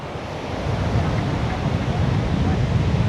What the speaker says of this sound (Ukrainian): Хвиля велика.